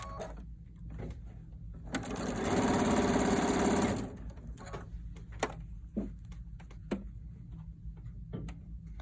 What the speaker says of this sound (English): we're going to stitch the second side on